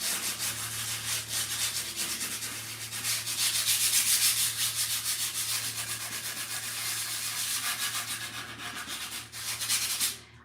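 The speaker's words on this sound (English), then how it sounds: "I'm going to hit it with that 120 grit." Wood is sanded by hand with 120 grit sandpaper, a close, loud, continuous scratchy rubbing in quick repeated strokes that keep going without a break and with no speech.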